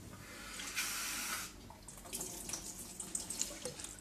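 About 80 ml of water runs from a kitchen tap for wholewheat pizza dough, a loud close splashing stream for about a second and a half, then quieter drips and small clinks with no talking.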